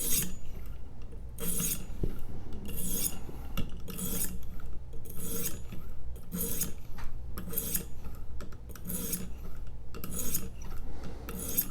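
A chef's knife is drawn across a Stonehocker Atopos sharpening stone in repeated, evenly spaced rasping strokes, about a dozen close passes with a gritty scraping texture.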